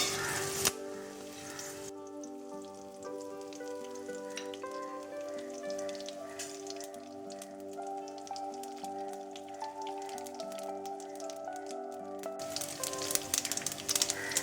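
Mustard seeds, urad dal, cumin and curry leaves sizzle and crackle steadily in hot oil, a continuous close frying hiss with scattered pops throughout.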